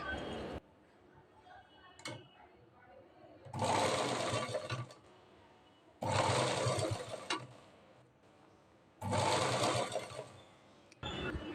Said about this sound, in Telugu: ఇప్పుడు పైపింగ్ ఇలా రైట్ సైడ్ ఇలా పెట్టుకొని కుట్టుకోవాలి.